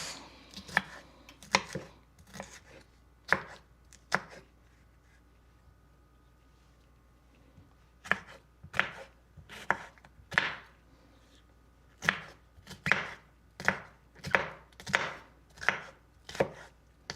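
A mini bell pepper is diced with a knife on a cutting board at home. The chopping comes in quick bursts of sharp, close thunks with a pause mid-way, then a steady rhythmic run of chops toward the end.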